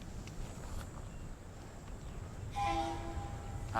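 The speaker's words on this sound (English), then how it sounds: "Oh, that's the train." A train crossing the Namib desert in Namibia approaches from afar, its low rumble building under steady wind, with a brief horn-like tonal note near the end; no one speaks.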